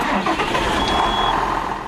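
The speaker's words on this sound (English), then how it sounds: "So you turn the engine back on." A snow-clearing tractor at an airport starts up, its engine turning over and catching into a steady mid-pitched running note, loud and close, with a brief high tone partway through.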